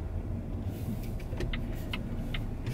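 A car rolls slowly through a car park with a learner at the wheel, giving a steady low engine and road rumble throughout, with a few faint higher clicks or squeaks on top and no talking.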